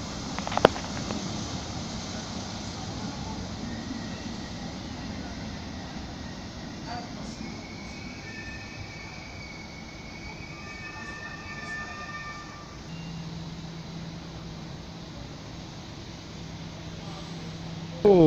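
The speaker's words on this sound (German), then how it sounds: "bitte Vorsicht auf Gleis 5, eine Zugdurchfahrt eines Güterzuges in Richtung Norden" A freight container train passes through Ulm or Augsburg main station with a long, steady rumble at a distance, with faint squeals and tones over the continuous low roar.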